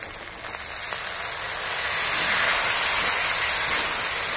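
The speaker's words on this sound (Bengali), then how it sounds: "এবার এর ভিতরে আমি কিছুটা জল দিয়ে দেবো মশলাটা কষানোর জন্য।" Water poured into masala frying in a pan gives a steady, rising hiss of steam and sizzle that starts about half a second in and stays loud and even to the end.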